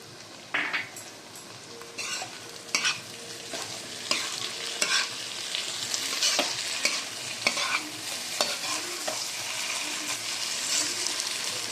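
Jackfruit seeds and dried shrimp masiyal sizzle in sesame oil in a pan while a spoon stirs and scrapes at an irregular rhythm, close and steady, with no talk.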